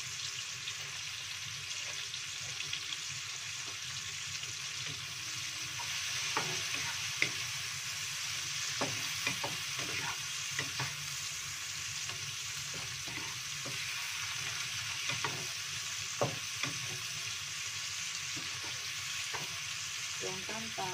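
Tofu stir-fried with winged beans and petai sizzles steadily in a pan, with scattered clicks and scrapes of stirring over a continuous frying hiss.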